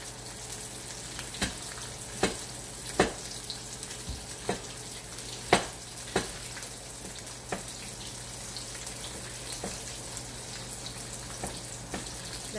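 Frozen ginger fries in a pan with a low, steady sizzle, broken by occasional sharp clicks and taps at uneven intervals, close and fairly quiet.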